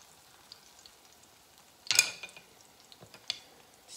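Yellow sweet plantains fry Jamaican style in a pan, a faint low sizzle with one brief louder burst as pieces are turned, plus a few light clinks.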